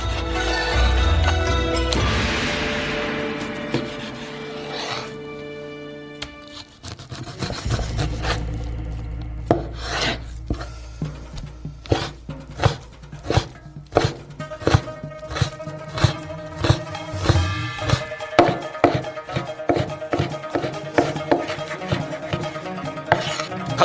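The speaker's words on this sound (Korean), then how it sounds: "돼지고기도 똑같이 잘라주세요." Knife thinly slicing raw pork on a cutting board while preparing noodles, a steady run of close, crisp taps and scrapes that grows quicker and more regular after a bit of early rubbing and clatter.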